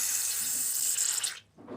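Water spurts out of a radiator being vented by a gas and heating plumber, a steady hissing gush close up that cuts off abruptly, then briefly sputters again.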